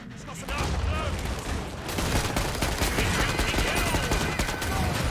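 Rapid gunfire from the shooter game Killing Floor 2 rattles in near-continuous bursts after a brief quieter opening, dense and loud throughout, with a player's voice now and then under the shots.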